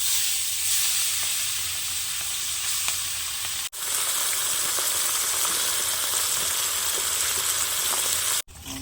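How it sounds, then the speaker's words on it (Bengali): Small puti fish frying in hot oil in a wok, a steady bright sizzle and hiss running continuously and loud, with no talk over it. "ওইদিকে মাছগুলো ভাজা হোক"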